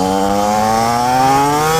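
A 2017 TM SMR 125 motorcycle engine pulls hard through the gears, its buzzing tone climbing steadily and loud, close up.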